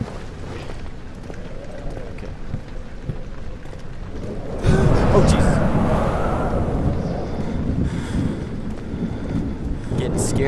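A steady rushing wind blows through the horror video game Amnesia, growing louder and fuller about midway and continuing under a player talking.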